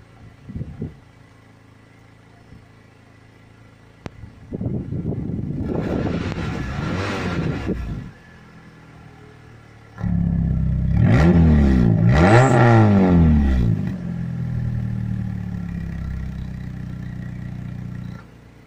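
A PT Cruiser engine fitted with a throttle body used as an exhaust cut-out valve runs at a low idle, then revs up loudly in two bursts, the second longer and harsher, before dropping back toward idle.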